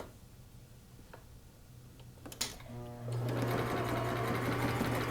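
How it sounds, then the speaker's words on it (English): Sewing machine running a stitch along a fabric band for a turban, a few slow clicks then a steady close, loud mechanical whir with rapid needle ticking. "So I'm going to do another stitch right about there so that this band isn't too long,"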